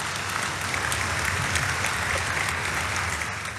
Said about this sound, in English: Oh, Celia, I love the applause.